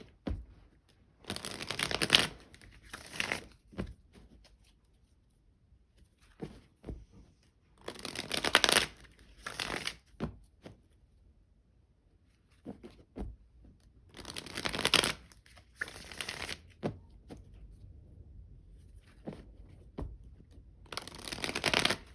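Tarot cards are shuffled in several separate bursts, each a crisp riffling flutter lasting a second or two, separated by quiet pauses with faint handling noises, close and fairly soft.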